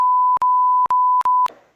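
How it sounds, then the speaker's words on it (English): A censor bleep: a loud, steady pure electronic tone that runs for about a second and a half, broken by three brief gaps, then stops with a faint trailing sound. "I'm gonna bleep it out every single time."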